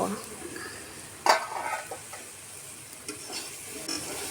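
Soybean chunks and fried potatoes are stir-fried in spicy masala, a low sizzle under scattered scrapes and one sharp clank of utensil on pan, close and moderately quiet.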